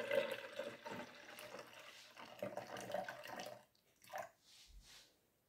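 Water is poured onto coffee, splashing and trickling close by for a few seconds, then tapering off into quieter drips and faint sloshing.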